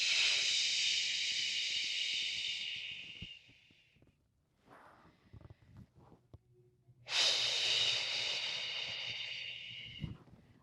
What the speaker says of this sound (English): take some good deep breaths here